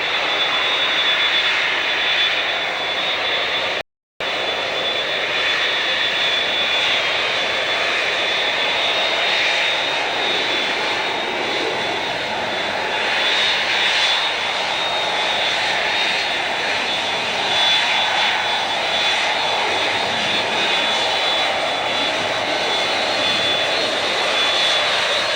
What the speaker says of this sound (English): One of their 5 DC-10 10Fs is seen taxiing at Dallas-Fort Worth.